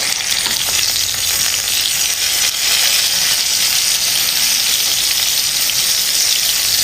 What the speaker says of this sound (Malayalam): ഈ വശവും ഒന്ന് ഫ്രൈ ആയി വരട്ടെ.